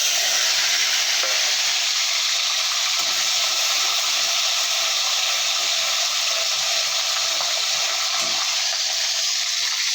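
Chopped tomatoes fry in oil in a pan of jackfruit curry, a loud, dense, continuous sizzle that holds evenly throughout with occasional soft stirring knocks beneath.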